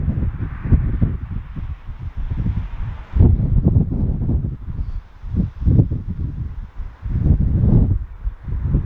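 Wind blowing outdoors at a fishing spot, loud gusty buffeting and rumble on the microphone that rises and falls in uneven surges, with faint rustling behind it.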